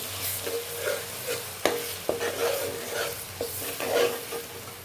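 Ginger garlic paste fries in oil for a prawn pickle, a continuous sizzle broken by repeated scraping stirs and occasional clinks of a spoon against the pan.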